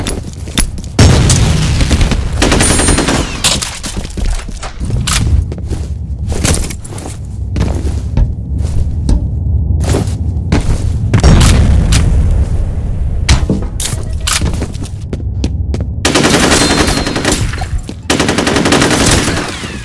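Chaotic video game combat: heavy booming explosions mixed with bursts of rapid machine-gun fire and scattered single shots, loud and close, continuing in waves with short lulls over about twenty seconds.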